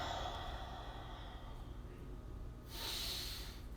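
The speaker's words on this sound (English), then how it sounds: "3 more big breaths." Deep, steady breaths drawn in and pushed out during a home core workout while holding a star plank, a continuous airy rush with one louder, sharper exhale near the end.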